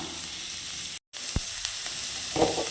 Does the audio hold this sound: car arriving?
no